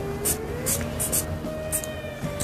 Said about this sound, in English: Now I'm going to make up with this Charlotte Tilbury setting spray.